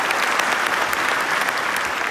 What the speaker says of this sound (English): A round of applause, former mayor, former police chief, David Stover.